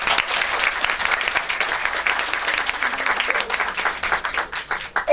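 Sustained audience applause during a Turkish student introduction event, a dense wash of many hands clapping steadily for about five seconds, moderately loud and continuous with a slight swell near the end.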